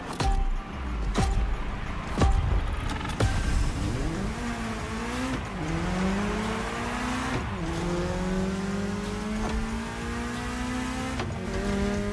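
A BMW M3 driven in the racing game The Crew Motorfest, its engine note climbing through repeated rising pitch sweeps as it accelerates through the gears, with shift breaks between pulls and a steady, close, continuous drone alone.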